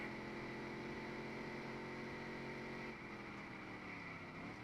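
Engines drone and whine continuously at high pitch, a steady synthetic motor roar that shifts slightly in tone, racing cars in the video game NASCAR: Dirt To Daytona.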